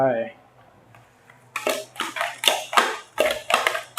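Chili powder and roasted rice are worked into a Thai larb with a utensil in a bowl or pan, a run of rhythmic clinking scrapes and taps up close, following a brief spoken word and then a quiet pause.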